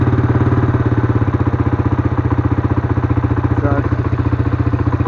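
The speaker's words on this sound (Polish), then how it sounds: "Obroty są wysokie, bo na gaśniku, na śrubce, na przepustnicy podniosłem mu obroty" An SMC 170 Blaster quad runs just after a cold start, its engine held at a raised idle by the throttle adjustment screw, a loud, steady, rapid pulsing putter close by.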